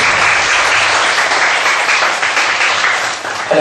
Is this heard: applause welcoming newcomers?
yes